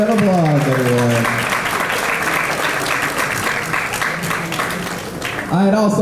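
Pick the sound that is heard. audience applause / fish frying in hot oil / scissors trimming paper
audience applause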